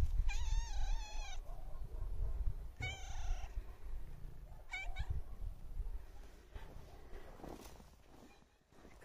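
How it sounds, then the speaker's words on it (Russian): A cat meows loudly and close by on a quiet walk, with three drawn-out, wavering cries spaced a couple of seconds apart, followed by soft rustling and steps. "Только котик мяукает."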